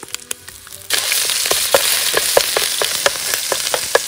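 Ginger and garlic sizzle and fry in hot oil in a pan, a steady close crackling hiss that starts abruptly, with occasional sharper pops and stirring scrapes.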